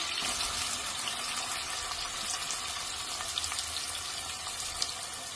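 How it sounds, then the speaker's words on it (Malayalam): Chopped onions sizzling in hot oil in a pan, a steady close hiss for a mutton head curry, running continuously with no talk. "ഇനി ഓയിലിലേക്ക് നമുക്ക് കുറച്ച് സവാള കൊടുക്കാം."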